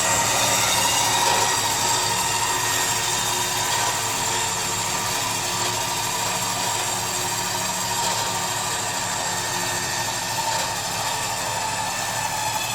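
A 12000 lb Badland Apex winch mounted on a Jeep Cherokee spools out its line with a continuous, loud, grinding mechanical whir and gear rattle that stays steady throughout.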